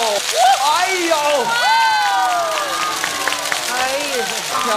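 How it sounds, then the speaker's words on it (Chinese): A crowd at a stage event welcomes a guest with applause and excited cheering, while several voices shout and talk over the clapping throughout. "让我们把掌声献给真正的孟广美 登场喽"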